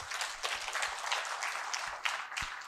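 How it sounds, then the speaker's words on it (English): A crowd claps briefly after a request to applaud some daughters, fairly faint and steady, with a few louder individual claps standing out. "Please clap"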